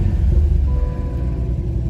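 A 2022 Cadillac CT5-V Blackwing with a six-speed manual pulls away, its engine a steady low rumble close by inside the cabin, with no talk.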